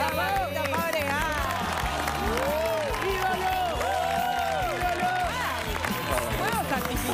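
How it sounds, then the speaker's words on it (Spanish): Studio audience applause welcomes a guest onto a TV show stage, a dense steady clapping crowd with music and cheering mixed in throughout. "aplauso para recibir a Pablito Fabregat"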